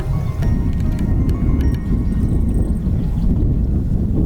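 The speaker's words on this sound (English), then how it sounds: "Winds are blowing a little bit, so we're gonna have to put the wind guard on" Wind blows steadily outdoors at a camp cooking site, a loud continuous low rumble buffeting the microphone with no pauses.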